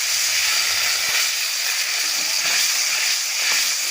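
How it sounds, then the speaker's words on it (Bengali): Water poured into hot fried spice paste for a fish curry gives a loud, continuous steam hiss that holds steady for several seconds, alone and close. "মশলাটা আমার খুব ভালোভাবে কষানো হয়ে গেছে, এবার আমি পরিমাণ মতন জল এতে ঢেলে দিচ্ছি।"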